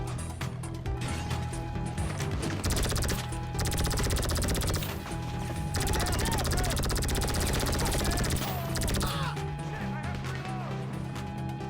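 Video game helicopter with rapid rotor thumping under a barrage of gunfire and machine-gun bursts, loud and continuous, while a player talks over the action.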